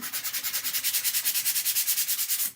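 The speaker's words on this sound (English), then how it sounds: "I'm just sanding the back of it." Rhythmic back-and-forth scratching of hand sanding on the back of a wooden Easter bunny craft piece, quick even strokes repeating steadily from start to finish, close up.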